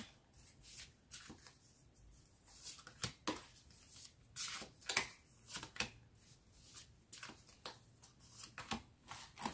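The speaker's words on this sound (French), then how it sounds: "je vais poser toutes les cartes et voir ce qui ressort" Tarot cards being laid out and shuffled by hand, close up, with crisp riffling flicks and soft slaps of card on card in an irregular rhythm throughout, no voice over them.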